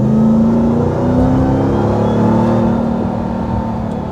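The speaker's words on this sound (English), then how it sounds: "I just love the sound of that supercharger." The supercharged engine of a 2024 Ram TRX pickup truck accelerates with a loud, steady roar and a rising supercharger whine, heard close up from inside the cab.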